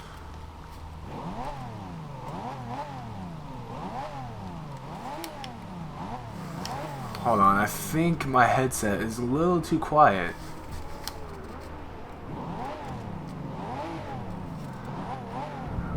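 In Forza Horizon 2, a 2012 Pagani Huayra with a 6-liter V12 idles and then revs in several quick, rising bursts midway before settling back. Someone talks over the engine at the start.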